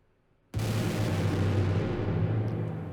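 A sudden heavy explosion sound effect from an Evolution Devastator Breakout Pro library booms in, followed by a long rumbling, crackling roar that slowly decays with reverb.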